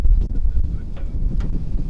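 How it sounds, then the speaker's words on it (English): Steady wind buffets the microphone, a low rumbling roar that stays loud and close throughout with small gusting swells. "It's so windy."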